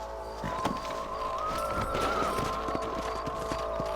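Horses galloping in the Western video game Red Dead Redemption, a steady stream of hoofbeats clattering under game ambience and a sustained tone.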